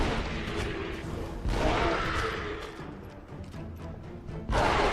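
Shotgun fire in the Deadfall video game, inside a Mayan tomb: heavy booming blasts at the start and again near the end, with denser rumbling gunfire between.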